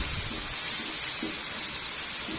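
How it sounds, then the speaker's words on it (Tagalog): Ingredients are sautéed with fish sauce in a pan, giving a steady close hiss and sizzle with soft bubbling pops, alone without talk. "gisa lang natin yan for another few seconds"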